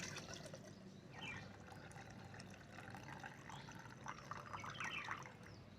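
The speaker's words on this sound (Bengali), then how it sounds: "এই জৈব তরল সারটি আমরা এবার ছেঁকে নেব। ছেঁকে নিয়ে একটা পাত্রে সংগ্রহ করে নেব।" Homemade rice-wash organic liquid fertiliser strained into a container, a soft steady trickle and pour of liquid, fairly faint and close, with no talking.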